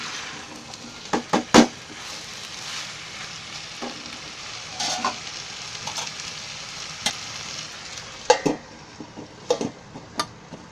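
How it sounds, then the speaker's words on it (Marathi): Mixed vegetables for a broccoli veg biryani cooking in a pan on medium heat, a soft steady sizzle with occasional stirring scrapes and light clinks of utensils, no voices. "आता हे भाज्या सर्व शिजायला पाहिजेत ना, मग थोडा गॅस मीडियम करून आहे ना मग झाकण मारते 2-3 मिनिटासाठी."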